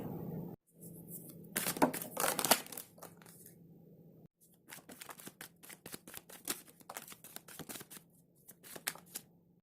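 A deck of tarot cards is shuffled by hand nearby, with a burst of riffling and then softer flicking and sliding of cards in quick irregular taps.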